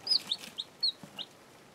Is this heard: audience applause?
no